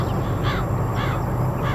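Crows caw repeatedly in a railway scene in Train Simulator Classic, a few harsh calls spaced about half a second apart, clear and fairly close over a steady low rumble.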